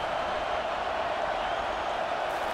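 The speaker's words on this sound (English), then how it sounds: "Listen to the crowd energy here in the early going." A steady wall of crowd noise fills a College Football 25 stadium during the Alabama vs Auburn Iron Bowl, a continuous roar of cheering with no clear breaks.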